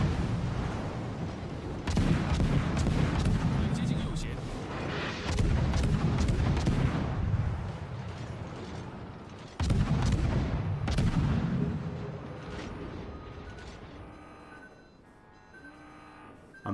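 Naval guns of a warship firing in World of Warships, several heavy booming salvos with rumbling tails spaced seconds apart, loud and close, then fading to quieter battle noise.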